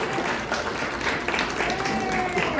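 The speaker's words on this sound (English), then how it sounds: "Give a big round of applause." Audience applause at a short film festival, a busy layer of many hands clapping with cheering and voices mixed in, steady and fairly loud throughout.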